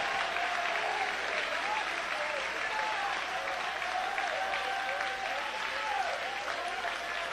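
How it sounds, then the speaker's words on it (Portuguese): Church congregation applauding and praising God, sustained clapping from many people with scattered voices and shouts rising through it, steady and fairly full throughout. "palmas misturado com glória a Deus"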